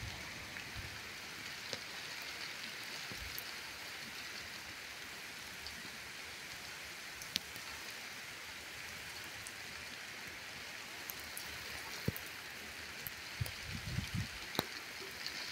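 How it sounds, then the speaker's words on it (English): Dense pellets fall steadily in a continuous hiss, with occasional sharper ticks and thuds of harder impacts striking nearby surfaces. "It's hail."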